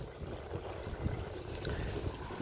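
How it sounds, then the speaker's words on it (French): Wind buffets a sailboat out on the water, a steady rushing roar with low gusty rumbles, heavy and close, with no talking. "Le vent est encore bah, il vient de là. Là c'est de l'ouest à peu près."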